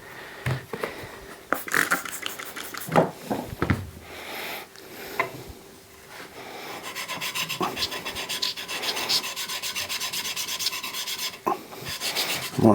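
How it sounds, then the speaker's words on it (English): Steel chisel back rubbed on wet 400 grit sandpaper laid over a flat granite or marble tile to clear rust, making repeated close rasping strokes in an uneven back-and-forth rhythm. "cleaning off the back of the chisel"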